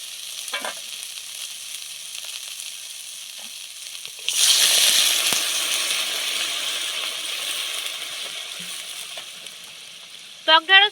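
Puti fish and sour okra are stir-fried in a pan, and a burst of loud sizzling starts midway and slowly fades while utensils clink softly. Quieter kitchen noise comes before it.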